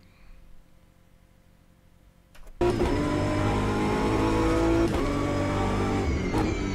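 A BMW GT3 race car engine in the Automobilista 2 racing game: a quiet hum gives way to a sudden, loud engine roar that holds a steady, high-revving drone, with no one speaking.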